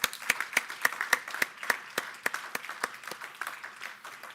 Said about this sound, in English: we will applaud anyway